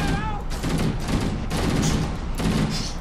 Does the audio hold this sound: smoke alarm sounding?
no